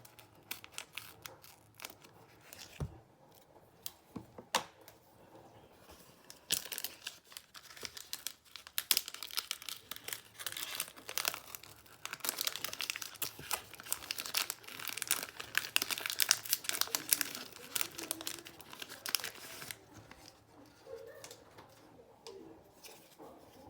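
Foil Pokemon booster packs being torn open by hand, with bursts of crinkling and ripping wrapper that build to a dense, loud stretch midway, then fade into lighter rustling.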